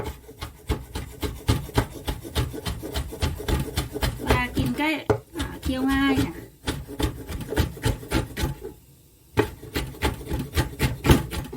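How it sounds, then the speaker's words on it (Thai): A knife slices pickled mustard greens into small pieces on a cutting board, with quick, steady, close tapping strokes running throughout as someone talks over them. "เราก็มาหั่นผักกาดดองกันต่อเลยนะคะ แล้วก็ซอยเป็นชิ้นเล็กๆค่ะ"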